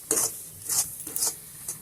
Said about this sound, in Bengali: বেসনটা দিয়ে আমি ভালো করে নেড়ে চেড়ে মিশিয়ে নেব।